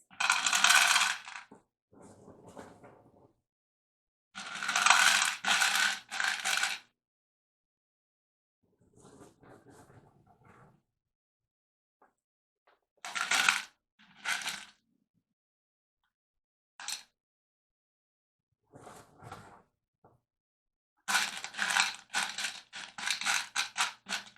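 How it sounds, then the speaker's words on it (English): Small decorative rocks clatter and rattle into the bottom of a glass container in several separate pours, bright and close, with quiet pauses between them. "Just going to go ahead and add rocks to the bottom."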